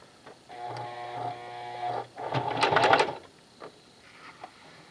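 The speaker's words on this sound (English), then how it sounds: "I'm using my new Singer heavy duty machine." A new Singer heavy duty sewing machine stitching, a steady whirring motor hum with a rapid needle chatter that strains and grows louder for about a second before easing off, close by.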